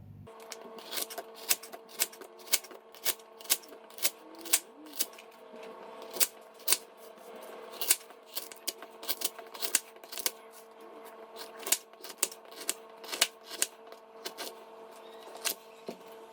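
A knife slicing a French loaf into half-inch pieces for garlic bread, a quiet series of crisp crunchy strokes at a fairly regular rhythm, with no voices.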